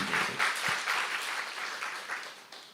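A church congregation breaks into applause during a sermon, a lively burst of many hands clapping with a pulsing rhythm that gradually thins out, one low thump near the start.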